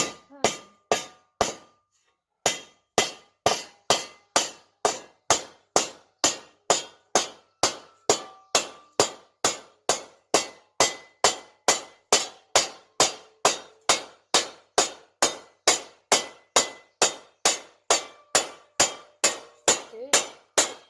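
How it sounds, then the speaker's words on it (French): A hammer strikes a scythe blade laid on a metal anvil to thin the edge. The ringing blows are sharp and close, falling in a steady, even rhythm of about two per second after a short pause near the start. "avec le marteau, on va taper comme ça pour amincir la lame"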